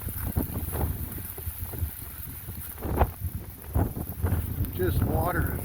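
Gusty wind with rain sheets around a parked motorhome, a rushing roar with thumps and rattles as the gusts rise and fall. A person talks at times under the noise.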